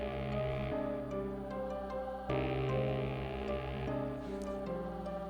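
Layered synth melody built from Citrus patches with an FL Keys piano part, playing as a dense, steady electronic arrangement with sustained chords and shifting notes, loud and continuous throughout with no voices.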